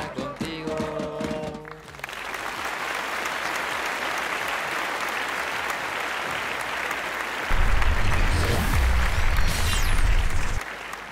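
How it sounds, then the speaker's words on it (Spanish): Applause from a small group after a football fan song, steady dense clapping for several seconds that follows a brief musical tail and runs into a low rumble near the end. "Pues ese aplauso para Clarimén y para Humphrey."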